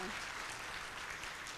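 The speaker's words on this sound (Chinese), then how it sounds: "我们给他一个热烈掌声哦。" Audience applause at an anniversary ceremony of a Chinese-speaking women's business association, a full, even burst of clapping filling the hall at steady loudness throughout.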